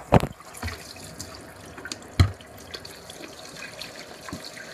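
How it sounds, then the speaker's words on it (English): Tap water at a sink while hands are washed, a faint steady trickle with a few louder splashes and clunks, close and without talk. "I was going to wash my hands"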